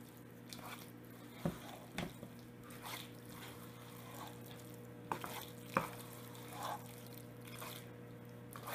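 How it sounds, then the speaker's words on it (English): Macaroni and cheese mixed with breadcrumbs being stirred in a dish, faint soft squishing and occasional clinks of the spoon against the bowl over a low background hum. "Just give this a stir."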